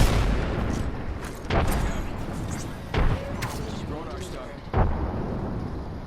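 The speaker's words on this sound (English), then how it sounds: "I, well, yeet every grenade I have" Grenade explosions in the Apex Legends video game go off as three heavy booms spaced a second or two apart, over a constant rumble of battle noise and voices.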